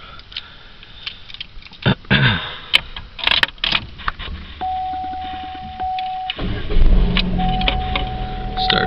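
A 2002 Chevy Cavalier is started: key clicks and soft handling noises, then an electronic chime tone, after which the engine cranks, catches and settles into a close, steady idle rumble.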